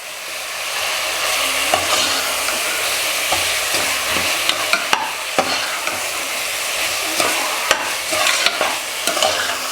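Mutton chest bones sauté with ginger and garlic in a pan, a steady sizzle broken by repeated scraping stirs and clacks of a spoon against the vessel, close and loud.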